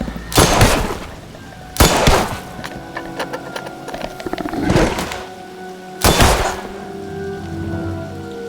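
Gunfire from a film shootout climax in which a monster is shot: three loud, sharp broadband bangs near 0.5, 2 and 6 seconds, the last two with a booming tail, over quieter scattered clatter and a steady hum.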